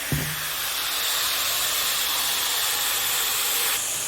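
Ground masala paste hits a hot pan with chicken and turmeric for chicken gravy, a brief splat at the start followed by a steady, loud broadband hiss and sizzle that holds for several seconds.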